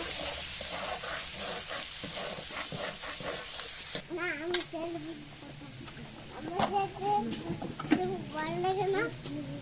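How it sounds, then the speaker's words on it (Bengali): Onions fry in a pan with a steady sizzle and some stirring, the frying sound fairly faint and continuous while people talk over it in the background. "এবার এই পেঁয়াজ খুব ভালোভাবে ভেজে নেব।"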